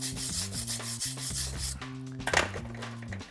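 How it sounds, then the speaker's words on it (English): A wire brush scrubs bricks clean in quick, rhythmic rasping strokes, close and steady, with tonal music playing underneath. "I'm giving them a little once over with a wire brush and then dusting them off with a hand brush"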